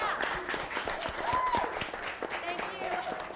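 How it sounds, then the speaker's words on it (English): An audience applauds presenters at a freelancing event, a steady wash of clapping with some voices talking over it throughout. "I know that was a really good clap, but these three presenters really deserve it."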